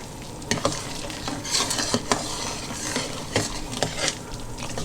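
Meatballs cooking in a pot on reduced heat, a steady low bubbling and sizzle with occasional clinks and scrapes of a utensil against the pot, close and continuous.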